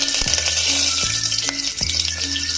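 Spices, green chilli and curry leaves fry in a pot of hot oil for one-pot tomato rice, giving a steady close sizzle with a few scraping stirs and occasional low tonal hum.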